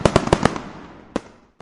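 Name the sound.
Diwali firecrackers exploding, sound effect in horror story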